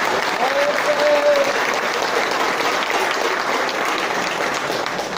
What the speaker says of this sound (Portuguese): Queria que todos nós dessem uma salva de palmas para o nosso companheiro Guimarães.